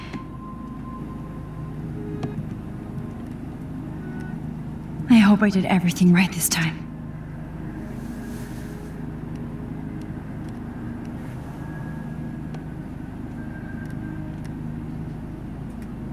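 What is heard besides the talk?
airplane in flight, from the video game Life is Strange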